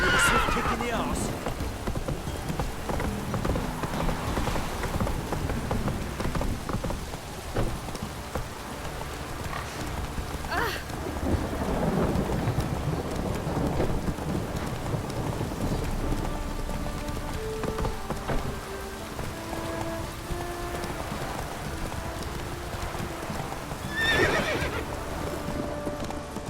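Roach, the horse in The Witcher 3, gallops with a continuous drumming of hooves under steady rain, a whinny breaking through, while a voice talks over the clatter.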